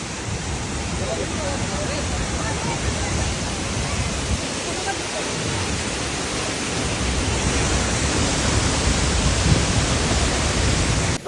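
Thoseghar waterfall in heavy flood, its water rushing with strong pressure as a dense, continuous roar that fills the scene from start to finish, loud and close, with voices faintly present beneath it.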